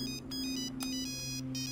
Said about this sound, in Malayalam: എടാ, നീ ആ ഫോണൊന്ന് എടുക്കടാ.